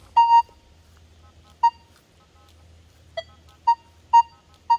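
Short electronic beeping tones from a Nokta Legend metal detector hitting a dime and nails, about six bursts spaced irregularly over a low steady hum, each a clear pitched chirp.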